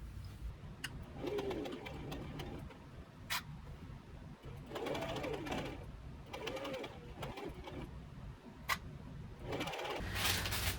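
A sewing machine stitches a skirt onto a tiered puff-sleeve dress in short intermittent bursts of fast whirring, while pigeons coo faintly in the background.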